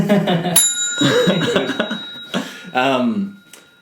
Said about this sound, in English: That's a shout out bell, by the way.